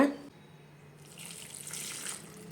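Water added to a pot while cooking a fenugreek-leaf and green pea pulao: a steady, close splashing pour that swells over a second or so after a brief thump, with no talk.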